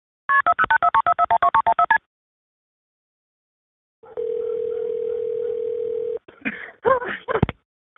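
A rapid run of telephone keypad tones dialing 911, a pause, then a long steady phone tone, followed by a few brief rustling noises.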